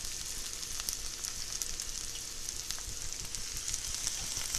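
Fresh kale sizzling in a pot, a steady close hiss with faint crackles throughout and no talking.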